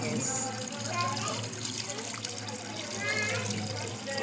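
Tap water runs steadily into a kitchen sink while food is washed during preparation of Jamaican-style stew chicken with rice and peas, a continuous moderate splashing stream with voices talking over it.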